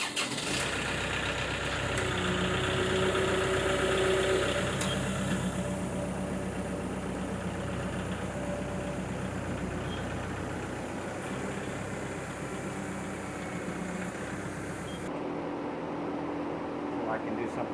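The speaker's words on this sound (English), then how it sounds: "Now I get to back the tractor up and see if it stays." Farm tractor engine idling steadily while backing up, a constant mid-pitched rumble with faint mechanical whine, dropping off sharply near the end.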